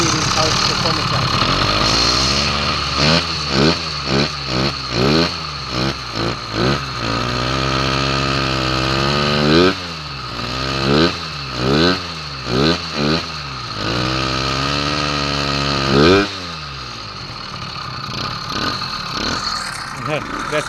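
A stock piston-port engine fitted with a high-performance carburetor and reed valves idles steadily, then revs up in a series of sharp throttle blips and a few longer pulls, loud and close.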